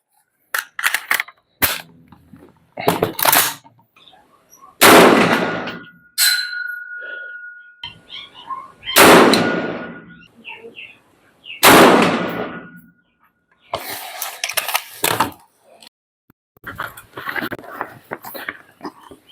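Rifle shots fired during a scope calibration test with a Discovery ED-AR 1-6X24IR FFP scope, several sharp loud cracks spread irregularly across the stretch with short gaps and scattered handling noises between them.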